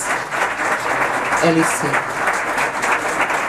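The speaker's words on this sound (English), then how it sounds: "Let's welcome, with a big applause" Audience applause at a UFO conference as a guest is welcomed to the stage, a steady wash of clapping running throughout while someone speaks over it briefly.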